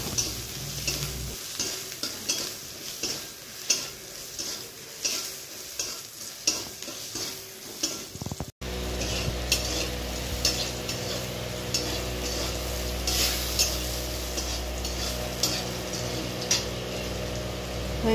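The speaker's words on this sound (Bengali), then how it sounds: "এবার ভালো করে নাড়াচাড়া করে ভেজে নেব।" Eggplant pieces with turmeric and salt frying in hot oil, stirred with a utensil in repeated close scraping strokes over a continuous sizzle, with no talking.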